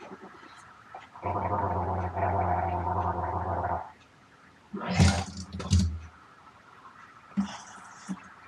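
A person gargles water in the mouth, a steady bubbling burst lasting a few seconds up close, followed by a short sputtering rinse and faint rustling, with no talk.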